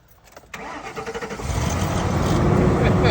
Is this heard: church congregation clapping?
no